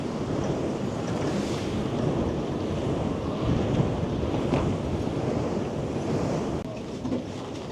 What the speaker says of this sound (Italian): Entriamo nel mulino, sentite il rumore del vento.